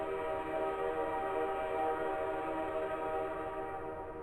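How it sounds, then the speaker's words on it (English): A train passes in the video game Garry's Mod DarkRP, heard as a loud, steady horn-like tone that holds throughout with no talking. "Sorry, there's a train."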